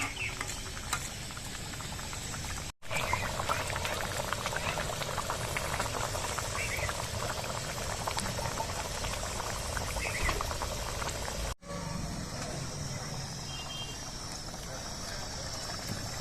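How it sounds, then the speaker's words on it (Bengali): A pabda fish curry bubbles steadily as it boils in a pan, with a dense, continuous crackle and patter of bursting bubbles, close and even throughout and with two brief cuts in the sound. "মাছটা এখন টকবক করে ফুটবে।"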